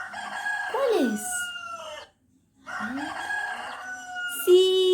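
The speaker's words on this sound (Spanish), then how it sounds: "¡Es el gallo!" A rooster crows twice, each call loud and close, with a short silent gap between the two cock-a-doodle-doo calls.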